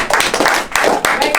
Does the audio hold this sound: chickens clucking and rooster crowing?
no